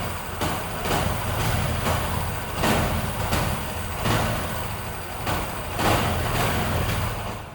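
A Honda Shine 125 motorcycle engine with a starting and self-starter fault rumbles in a steady pulsing rhythm, swelling in roughly regular surges at close range with no talking.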